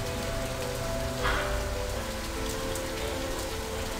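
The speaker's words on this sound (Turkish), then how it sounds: "Şimdi sağanak devam ediyor." Heavy rain downpour pours steadily in Kars, Turkey, a dense, continuous hiss of drops drumming on surfaces, close and loud throughout with no pauses.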